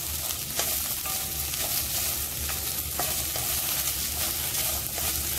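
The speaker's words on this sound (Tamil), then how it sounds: "நல்லா ஃப்ரை பண்ணிக்கோங்க." Sliced okra fries in a hot pan for a buttermilk curry, giving a continuous soft sizzle with occasional scraping stirs. No voices.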